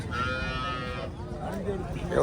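A Jersey cow moos with a drawn-out, harmonic call at moderate distance at a cattle market in Pochampalli, Krishnagiri, while people talk over it and other farm animals bleat faintly in the background.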